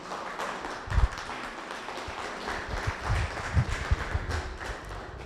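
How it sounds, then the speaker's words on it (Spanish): A standing church congregation applauds for the Lord during a Spanish-language family worship service, a moderate, uneven clatter of many hands with a few louder claps and thumps. "Denle un fuerte aplauso al Señor."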